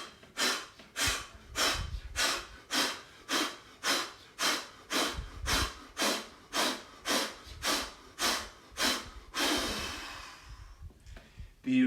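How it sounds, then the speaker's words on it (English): A person doing a breathing exercise forces out a fast, rhythmic series of sharp breaths, well over a dozen evenly spaced bursts close to the mic, ending in a long sustained exhale and a final breath in. "you can take one deep breath in, 10 forceful breaths out, trying to really push that breath out"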